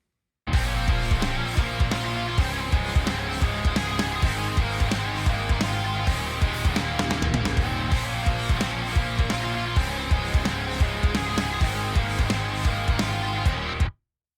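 Programmed drum intro with processed kick and snare driving a steady rhythmic pulse under dense, sustained instrumentation, loud and continuous from start to finish.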